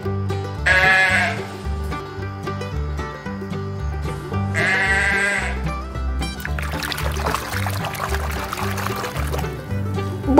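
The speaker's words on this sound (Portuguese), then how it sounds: "Bode." Goat bleating in two short, loud bursts over a steady backing melody, followed by a trickling, pouring texture toward the end; no talking.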